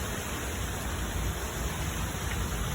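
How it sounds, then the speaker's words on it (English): Heavy rain pours down in a steady, dense hiss with no breaks, close and fairly loud, without any talk. "but it is raining"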